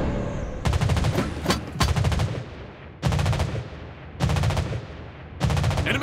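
Anti-aircraft guns aboard the USA cruiser Pensacola in World of Warships Blitz fire in five loud, rapid clattering bursts, each about a second long, with brief pauses between volleys.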